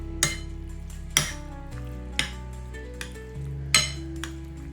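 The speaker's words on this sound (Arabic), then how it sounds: "وغنبدا نخلط" Chicken being stirred together with marinade ingredients, including a little oil, for tacos in a metal bowl, with sharp clinks of a utensil against the bowl at irregular intervals over a steady low kitchen hum.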